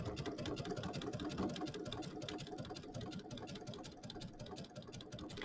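A sewing machine stitching binding onto a small mini quilt, its rapid needle clatter running continuously up close and fairly quiet, with no talking.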